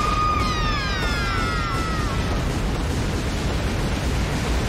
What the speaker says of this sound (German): auch die Pflanzen explodieren